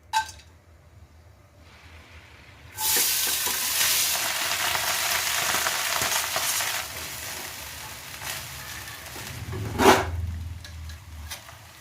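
Fried rice sizzles loudly in a pan after a quiet start, a steady broadband hiss with clinks and scrapes of stirring and a louder flare near the end, no voices.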